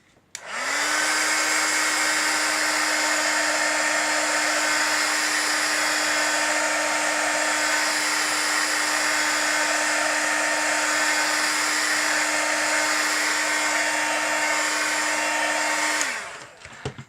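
A hair dryer drying holiday frame decor runs for about fifteen seconds as a loud, steady close-up whir with a constant tone, then shuts off with a brief clatter, and no voices are heard.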